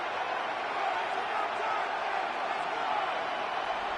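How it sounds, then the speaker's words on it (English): A football stadium crowd ahead of a third down late in a game against Buffalo, a steady, distant roar of cheering that holds at an even level with no clear peaks. "This crowd into it now as we get to third down."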